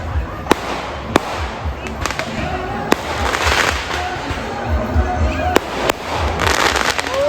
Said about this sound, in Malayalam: പല കളറിലുള്ള പടക്കങ്ങളാണ് പൊട്ടുന്നത്.